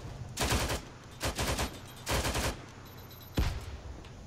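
Video game gunfire sounds as four separate bursts of rapid automatic shots, moderately distant, with short pauses between bursts and no talking.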